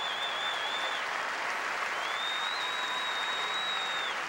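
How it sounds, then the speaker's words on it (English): Sustained applause from the home crowd at an LSU college baseball game in Baton Rouge, steady and loud throughout, a standing ovation as an injured freshman player is carried off the field. "An ovation from the crowd here in Baton Rouge"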